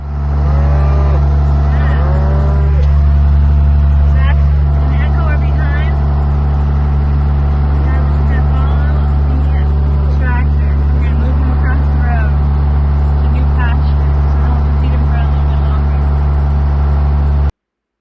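Farm tractor engine droning loud and steady, a heavy low rumble throughout, with cattle herded nearby and occasional higher chirps and calls layered on top.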